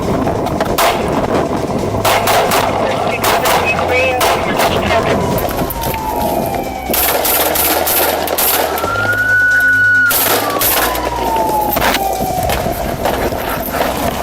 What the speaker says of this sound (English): shots fired, Walmart parking lot.